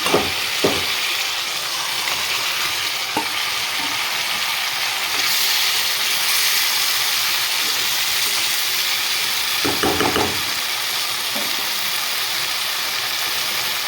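Rui (rohu) fish cooking in hot oil with spiced poppy-seed masala, a steady hissing sizzle throughout, with a few soft clinks of utensils and no talk.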